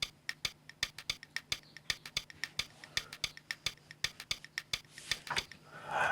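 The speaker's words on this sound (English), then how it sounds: "So these are woods. So they sound like this." Wooden percussion hits programmed into an Afro House beat in FL Studio: a steady stream of sharp, dry knocks in a syncopated pattern over a faint sustained low tone, close and clean with no voices.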